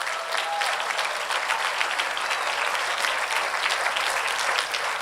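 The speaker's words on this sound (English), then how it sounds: "Can we please give a big round of applause to them?" Steady, full applause from an audience at a graduation and open house devotional gathering, dense and continuous throughout at a consistent loudness, with no voices standing out.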